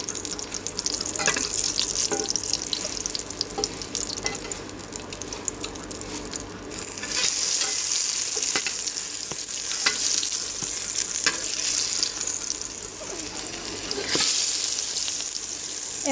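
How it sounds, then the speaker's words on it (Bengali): Four eggplant slices fry in a pan, a steady loud sizzle running throughout with occasional clicks and stirring scrapes. "তো এই যে আমি 4টা বেগুন দিয়েছি, আমি 4টা করে ভেজে নেব।"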